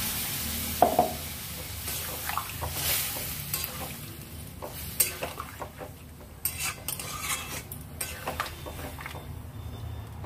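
Water swirled from a spice bowl into spices frying in a pan with Kashmiri chili powder and salt, a steady sizzle with clinks of utensil against the pan and a louder burst of activity near the start.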